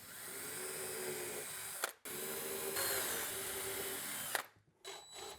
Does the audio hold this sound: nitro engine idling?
no